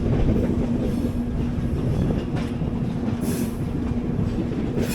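The 22677 Yesvantpur–Kochuveli AC Express runs toward Baiyappanahalli station with a steady, heavy rumble of wheels on rails. It is heard from on board, with faint clicks and a brief squeal.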